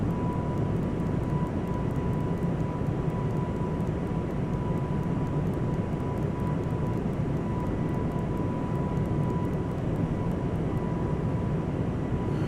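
An Airbus A220 jet climbing after takeoff in a flight simulator, a steady even engine roar with a faint constant tone, unbroken throughout.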